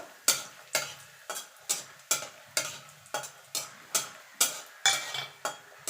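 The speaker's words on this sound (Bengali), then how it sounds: "বড়িটাকে একটু লাল লাল করে ভেজে নেব।" Lentil dumplings (bori) frying in oil in a wok, heard as a steady series of about a dozen crisp, evenly spaced stirring scrapes over a soft sizzle, close and fairly loud with no talking.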